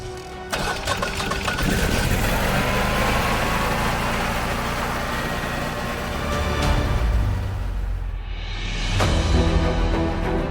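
A Generac generator engine running under test after repair, a steady loud droning hum that holds throughout with a brief surge and dip near the end.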